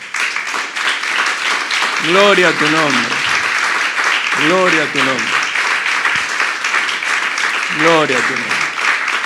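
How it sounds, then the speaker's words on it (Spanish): A church congregation claps steadily through a worship service while a voice chants praise over the applause in repeated phrases. "Denle un aplauso al Señor."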